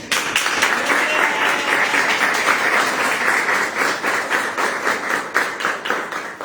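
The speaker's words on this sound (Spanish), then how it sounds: "Así que le damos un fuerte aplauso." A lecture audience gives a strong round of applause for a professor before a master class, dense clapping that is fairly close and loud, with individual claps popping out of the steady roar.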